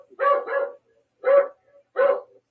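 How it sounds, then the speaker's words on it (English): A dog barks three times, sharp and close, with brief silences between each bark. "That's a dog barking."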